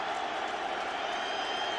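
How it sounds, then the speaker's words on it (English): A football stadium crowd roars steadily for the Colts defense, a dense, continuous wall of cheering and applause with no breaks. "the crowd on its feet, urging on the Colts defense"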